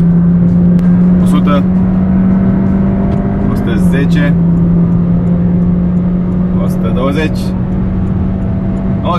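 A Honda HR-V hybrid car engine drones steadily as it accelerates hard from 60 on a highway in Romania, its pitch shifting partway through, with a person talking over the engine noise.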